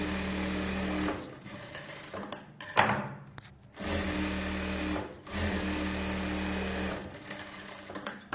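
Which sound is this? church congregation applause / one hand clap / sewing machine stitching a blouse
sewing machine stitching a blouse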